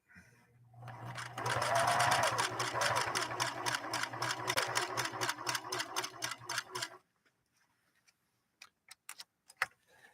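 Singer 6212C sewing machine stitching a stretched-out 3-point zigzag, with a fast, even mechanical clatter of needle strokes for about six seconds, then stopping and leaving a few scattered clicks and taps.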